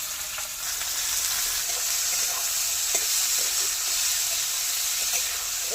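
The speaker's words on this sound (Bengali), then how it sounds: "আলু আর কাঁচা লঙ্কা ভেজে নেব" Potatoes and green chilies frying in oil in a pan, a steady bright sizzle and hiss with occasional stirring scrapes, close and continuous without talk.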